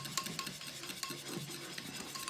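Half a liter of yogurt being stirred by hand for a Rajasthani fresh turmeric curry, with soft repeated scraping and sloshing strokes and light utensil taps against the bowl, close and steady.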